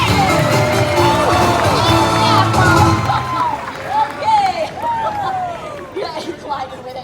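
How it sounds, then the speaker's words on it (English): An audience at a live animal actors show cheers and claps loudly for about three seconds, then fades into scattered whoops, chatter and shouting from the crowd. "Put your hands together. Make some noise for Animal Stars."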